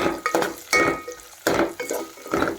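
Potato pieces being stirred in ghee in a pan, several bursts of spoon scraping against the metal with faint sizzling between, close and fairly loud.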